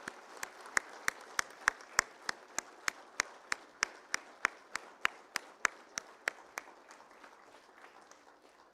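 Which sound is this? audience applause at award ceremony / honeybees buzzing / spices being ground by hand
audience applause at award ceremony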